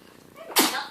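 A single sudden sneeze bursts out after a quiet moment, brief and fairly loud, close by in a room.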